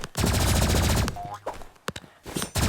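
Energy pistols fire in a video game as dense, rapid bursts of gunfire, one long stream followed by a few scattered shots and then another burst. The shots are loud and close.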